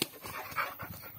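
A Jack Russell terrier panting rapidly and close by, with quick rhythmic breaths in an unbroken run and no talking.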